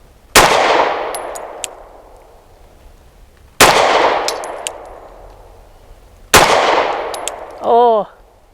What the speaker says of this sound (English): 5 rounds from 7 yards. I'm going to shoot at the left circle square.